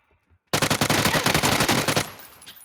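A loud, close burst of rapid automatic gunfire in a shooter video game starts abruptly after a brief quiet moment, rattles steadily for about a second and a half, then cuts off into a fading echo.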